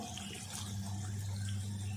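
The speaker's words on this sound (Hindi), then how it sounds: "1 लीटर पानी डाल दिया और अब 1 गिलास में और भी डाल रही हूँ।" Water pours steadily into a pot of chicken for a curry. The stream makes a continuous, fairly loud splashing and gurgling from start to finish.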